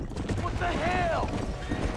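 Cattle stampeding through a video game scene: a dense, rumbling rush of hooves with a rising whinny-like cry partway through, loud and close, heard alongside game voices.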